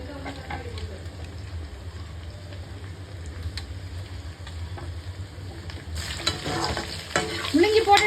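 Onions and radish stir-fry in a pan for a prawn kulambu, with a continuous sizzle and repeated spatula scraping that grows louder and busier toward the end, where a voice speaks.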